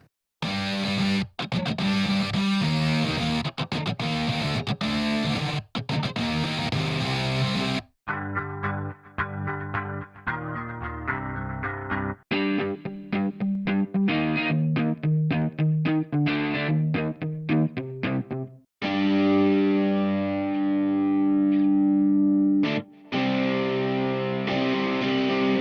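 Heavy distorted electric guitar riffs from the UJAM Iron2 virtual guitar instrument plugin, with chugging palm-muted rhythms, abrupt stops and changing patterns across several sections, loud and continuous with no voices.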